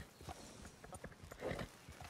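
Horses walking in Red Dead Redemption II, their hooves clip-clopping in a soft, uneven rhythm, faint and somewhat distant over a short stretch.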